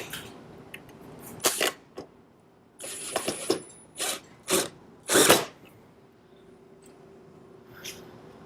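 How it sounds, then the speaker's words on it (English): Screws being driven into a wooden bumblebee house, heard as a series of short, loud bursts of whirring and grinding from a power driver with quiet pauses between them, close up and with no talking. "I'm going to grab some screws and screw this side in."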